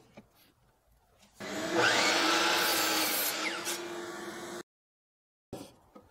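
A power miter saw cuts through a length of 2x4 lumber in a workshop: a loud, steady whine runs for about three seconds, then cuts off abruptly, with quieter handling noise before and after.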